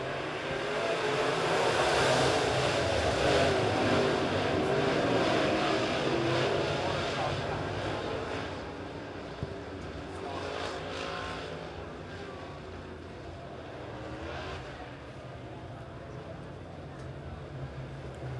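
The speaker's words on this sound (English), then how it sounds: "8 good hot rods set to go for heat race number 1." Dirt-track hot rod race cars in a heat race at Springfield Raceway, a pack of about eight engines roaring together as a loud, droning rumble that swells and then eases slightly, with an announcer's voice talking over it.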